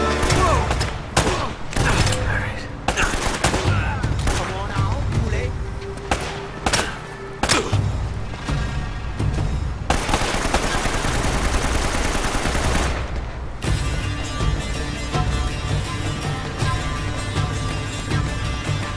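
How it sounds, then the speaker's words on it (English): Automatic weapons fire in Uncharted: Drake's Fortune: loud sustained bursts and single cracks rattle close by, with a long continuous spray near the end and brief talking between volleys. "I'm not sure if the use of automatic weapons right here is very fair"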